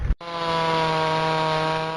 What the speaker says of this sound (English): Chainsaws are sounds of comfort to those whose yards are full of old trees